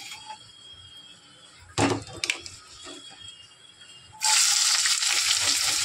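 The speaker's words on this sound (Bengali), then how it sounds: "আলু ভাজাটা করবো" Cut potatoes drop into hot oil in a home kitchen pan. A loud, steady sizzle bursts in near the end and continues, preceded by quiet kitchen ambience and a few sharp clattering knocks. No one speaks.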